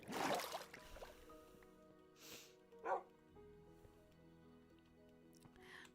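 A Minecraft wolf gives a few short barks and yips in game, a loud burst at the start followed by scattered fainter calls over low background game sounds.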